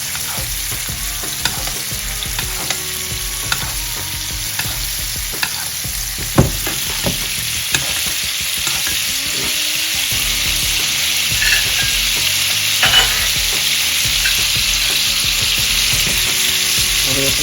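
A steak fries in butter in a pan, with a steady, loud sizzle that runs throughout and a few faint clicks and scrapes over it.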